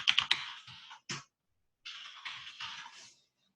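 A computer keyboard is typed on in a quick close burst of clicks while a password is entered, then there is a short pause and another softer, steady run of keystrokes.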